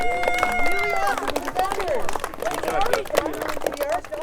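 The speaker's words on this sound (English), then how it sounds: "let's have a round of applause for our really" Seventh grade life science students clap for their presenters outdoors at a school forest, a dense patter of hands mixed with chatter and overlapping voices.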